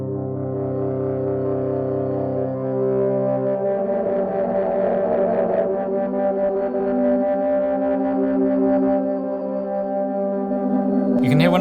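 Pitch-shifted synth pad chords played in thirds, thick with grainy artifacts, noise and distortion, sustained and fairly loud throughout, with a brief bright noisy burst at the end.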